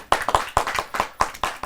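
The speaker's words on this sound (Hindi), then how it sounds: "जोरदार ताली के साथ।" A few hands clap loudly for a guest poet at a kavi sammelan, about eight sharp, evenly spaced claps close by with no other sound.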